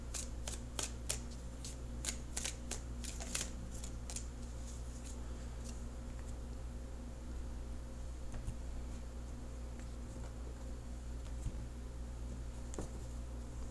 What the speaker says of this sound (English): then I'll cut the cards and begin the reading